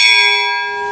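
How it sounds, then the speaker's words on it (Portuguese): Bell at a tourist spot in Pardinho, a single loud clear metallic tone ringing out and sustaining its steady resonance while slowly fading, with no talk. "a gente vai iniciar a nossa matéria com esse sino, que enquanto reverbera aqui, realiza os nossos desejos"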